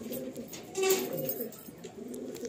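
A group of collected pigeons coo softly and continuously, with low rolling calls overlapping across a couple of seconds and a brief rustle midway.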